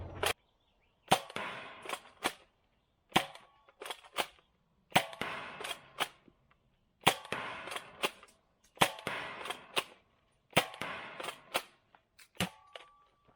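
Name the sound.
Sentry X2 toy foam blaster firing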